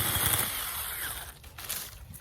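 A woodchipper grinds through branches with a loud, rough roar that fades briefly, then a sharp crack lands at the very end.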